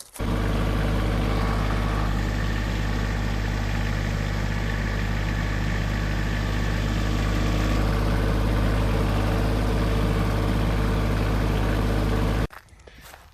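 A tractor engine idles steadily and loudly at close range on an off-grid Maine property during firewood hauling, a constant low rumble that cuts off abruptly near the end.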